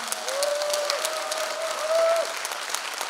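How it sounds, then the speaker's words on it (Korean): An audience at lawmaker Park Hong-geun's constituency report meeting in Jungnang claps steadily for about three seconds, with a faint tonal voice running beneath the clapping. "큰 박수 한번 보내주시죠."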